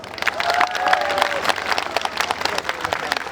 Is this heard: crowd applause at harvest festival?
yes